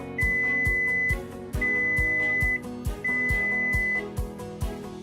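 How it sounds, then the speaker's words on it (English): A coffee maker signals its coffee is ready with three long, steady electronic beeps, evenly spaced and fairly loud, sounding alone against a faint background. "When your coffee is ready, you will hear 3 beeps"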